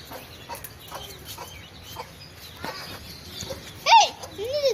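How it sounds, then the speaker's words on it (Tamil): Baby chickens in Sivagangai give faint scattered clucks and one sharp, louder peep near the end, while people talk softly in the background. "எங்க பா குட்டி கோழி."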